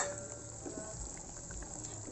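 Ilocano vegetable dish of squash and eggplant, known as inabraw or dinengdeng, boiling in a covered pan, a soft continuous bubbling simmer with faint sizzle, heard close up and alone.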